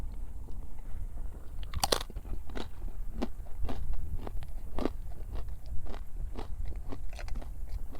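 Crunchy crackers from a Russian military ration are bitten and chewed close to the microphone, giving a run of sharp, irregular crunches and crackles repeated every half second or so over a quiet background, with no talking.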